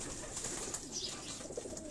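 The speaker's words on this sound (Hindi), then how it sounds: "माशाल्लाह, इन कबूतरों को आप देखें, फिट हैं बड़े।" Pigeons kept for flying coo on a rooftop in Karachi, giving low murmuring calls close by, with a faint flutter near the end.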